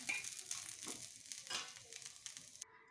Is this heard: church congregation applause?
no